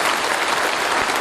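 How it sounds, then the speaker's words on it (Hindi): An audience at a motivational success-story talk breaks into loud, continuous applause for Basant Agarwal, a thick wash of clapping with no pauses and no speech. "बसंत अग्रवाल सर के लिए मैं जोरदार ताली चाहूंगा"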